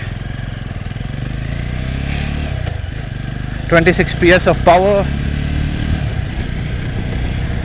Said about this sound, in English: it has a 293cc single cylinder air and oil cooled engine